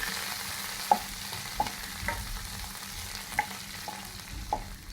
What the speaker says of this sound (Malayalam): മല്ലിയിലയും കൂടെ ഒന്ന് വഴന്ന് വരട്ടെ.